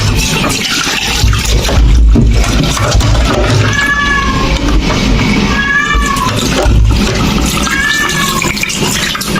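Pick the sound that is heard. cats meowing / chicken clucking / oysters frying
cats meowing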